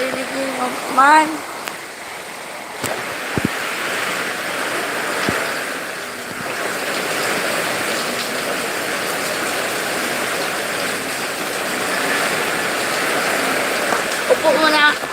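Heavy rain pouring steadily during a typhoon, a dense continuous hiss with scattered splashes and knocks, while people speak briefly at the start and end.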